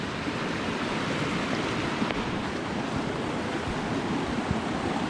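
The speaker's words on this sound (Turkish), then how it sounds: "Bakın buradan bir dere akıyor." Steady rushing water from a stream flows continuously, a broad constant wash of sound at close range with no voices.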